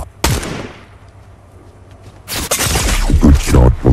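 Gunfire from a Fortnite match: a sharp close shot at the start, then a burst of rapid loud shots near the end.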